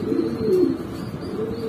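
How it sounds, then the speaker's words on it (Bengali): Several small, all-black pigeons cooing close by, a soft, low, throaty warble that swells and fades within a second or two, with no speech. "এগুলো কবুতর কিন্তু সাইজে খুবই ছোট"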